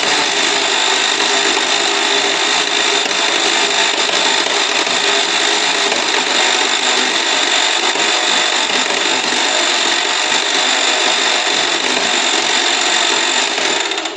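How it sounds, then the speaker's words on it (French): A vintage LIWACO Turbo toy driving game running, its spatula rapidly tapping a small tambourine to make a continuous buzzing, rattling plap-plap-plap that stays loud and close throughout, with no talking. "le plap, plap, plap, plap, c'est généré par un sorte de petit tambourin où une spatule vient de taper dessus"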